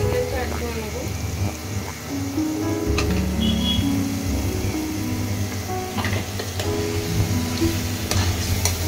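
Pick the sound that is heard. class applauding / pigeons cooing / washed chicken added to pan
washed chicken added to pan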